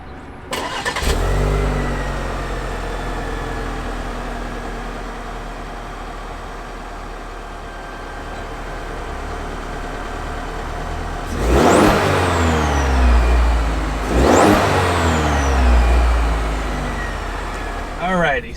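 A 2022 Chevy Silverado Custom with a 2.7 liter turbocharged four-cylinder starts and idles up close, then gives two sharp revs that climb and fall back near the end.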